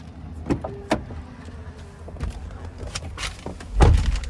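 A driver climbs into a 2017 Chevrolet Tahoe Premier SUV with a 5.3-liter V8, with scattered rustles and clicks from the cabin, then a solid, close thud as the heavy door shuts near the end.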